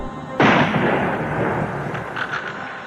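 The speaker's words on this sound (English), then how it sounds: "a second explosion echoed through Dealey Plaza" A single loud rifle shot fired from an upper floor of the Texas School Book Depository over Dealey Plaza, bursting sharply and rolling into a long, fading echo, with no voices.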